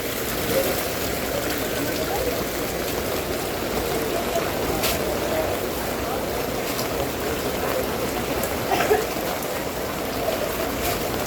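Flood water rushes and gurgles steadily in a broad, continuous wash of noise, with occasional faint splashes and clinks standing out over the flow.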